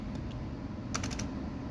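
Quick bursts of keystrokes on a computer keyboard, a few soft taps early then a rapid cluster of four clicks, over a steady low room hum with no talking.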